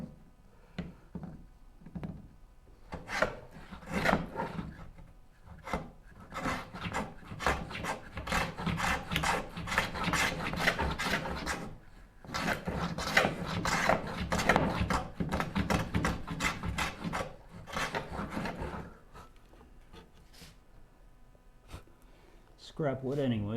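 A dado is cut into scrap wood by hand with a series of rasping, scraping strokes in irregular bursts, fairly close, with a short pause midway before the strokes resume.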